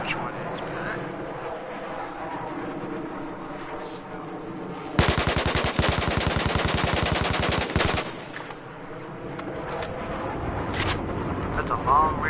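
A Battlefield 4 carbine rifle fires fully automatic on a shooting range, a loud, dense burst of rapid shots lasting about three seconds, framed by quieter background game sounds and a brief talking voice.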